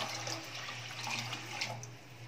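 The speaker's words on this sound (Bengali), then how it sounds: "এবার এর মধ্যে দিয়ে দিচ্ছি জল।" Water pours steadily from close by onto rice and lentils in a cooking pot on a gas stove, a soft continuous splashing rush with no talking.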